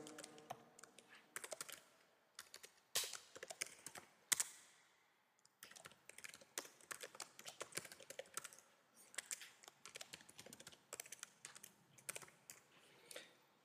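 Someone types on a computer keyboard while entering text into an Excel spreadsheet form. Close, crisp key clicks come in quick irregular bursts with a brief pause midway, and nobody speaks.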